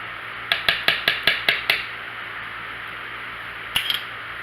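A whisk or spoon taps and clinks against a bowl while raspberry vinaigrette dressing is mixed, about seven quick evenly spaced strikes, then a pause and a brief second flurry, close and fairly quiet.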